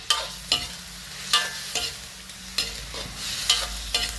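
Tomatoes and sliced chili peppers are stir-fried in a pan, with a low sizzle under regular scraping and clattering spatula strokes roughly every half second to second, close and clear.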